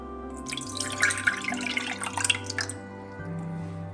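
Water is poured into a bowl of extracted tamarind pulp, a splashing, gurgling pour lasting a few seconds before easing to a quiet hum.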